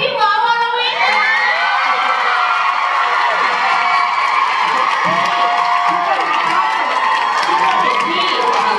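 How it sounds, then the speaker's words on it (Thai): A large, excited fan crowd at a Thai series fan meeting cheers and screams loudly with applause mixed in, high-pitched shrieks and whoops running continuously, with voices calling out over the din. "ขอเสียงปรบมือแรงๆให้กับพี่หมอวรวิทย"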